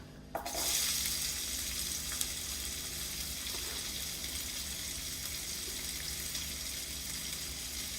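Onions hit a hot pan with bacon and cauliflower, setting off a sudden burst of sizzling that settles into a steady, fairly quiet frying hiss.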